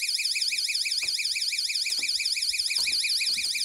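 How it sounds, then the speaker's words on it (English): A door alarm unit set to its alarm mode sounds a loud, continuous warbling electronic siren that rises and falls rapidly and evenly throughout. "Or alarm."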